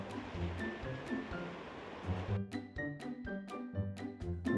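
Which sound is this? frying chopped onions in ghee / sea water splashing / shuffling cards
sea water splashing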